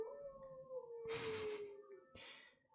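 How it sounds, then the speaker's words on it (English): A pet dog lets out a long, wavering howl in reaction to ringing bells, close and fairly quiet, with bright metallic chimes bursting in partway through and again near the end. "The dog really doesn't like the bells."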